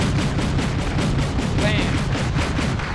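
A Havoc helicopter being shot in the video game Wargame European Escalation, heard as a loud, sustained rattle of rapid gunfire and impacts that fills the whole moment.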